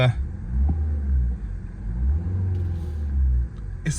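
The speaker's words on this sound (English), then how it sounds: "I'll give it a quick rev for you. It is only a 4-cylinder engine" A 2012 BMW 520d M-Sport (F10) with a four-cylinder diesel engine revs briefly, a deep rumbling note swelling and easing up close, with a voice faintly under it.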